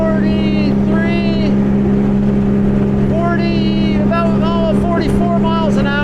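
A 2018 Scarab 195 ID jet-drive motorboat at full throttle, its engine a steady loud drone at around 8,000 RPM near 44 mph, with wind and water rushing past and whining tonal sweeps throughout.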